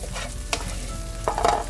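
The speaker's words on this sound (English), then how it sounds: "we can get rid of that by just continuing to cook it uncovered and drying it out" Okra stir-frying uncovered in a pan gives a steady low sizzle, broken by a few brief stirring scrapes and clinks near the middle and the end.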